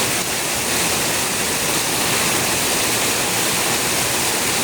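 Heavy rain driven by strong wind in Surabaya, a dense, loud, continuous roar of downpour with no break throughout.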